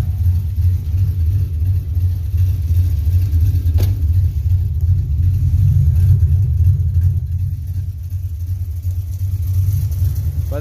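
Car engine idling with a heavy performance cam, a loud, deep, loping rumble with an uneven pulsing beat. It runs continuously and up close, with a brief sharp click near the middle and no speech.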